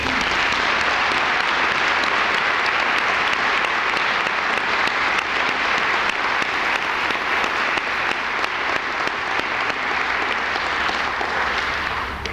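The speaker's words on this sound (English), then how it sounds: "I invite you once again to express your recognition by applause" At a college honors convocation, a large audience applauds the prize and award recipients, loud, dense and steady clapping that fills the hall without a break.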